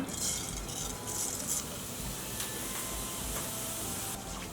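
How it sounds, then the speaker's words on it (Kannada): Cumin seeds sizzle steadily in hot oil in a pan, a soft continuous crackle with faint stirring scrapes, heard up close with no talking. "ಪ್ಯಾನಿಗೆ ಎಣ್ಣೆ ಹಾಕ್ಕೊಳ್ಳೋಣ ಜೀರಿಗೆ ಹಾಕ್ಕೊಳ್ಳೋಣ"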